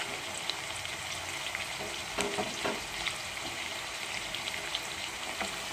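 Chicken and fenugreek-leaf gravy frying with green chilies and mint, a dense, even sizzle close up with a few scattered crackles and spatula touches, no voices.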